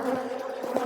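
Honey bees buzzing around an opened hive during a fall inspection, a dense, steady drone close by that hums on without pause through the brief moment.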